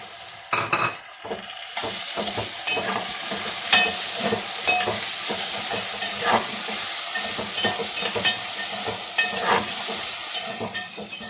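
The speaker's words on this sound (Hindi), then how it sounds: "अब इसमें हम लोग टमाटर डालेंगे।" Tomatoes added to a hot pan for soya biryani, frying with a loud, continuous sizzle and stirring scrapes, close up, with a brief quieter start before the sizzle jumps up.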